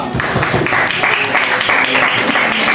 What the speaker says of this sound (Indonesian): Oke, tepuk tangan buat Satrio.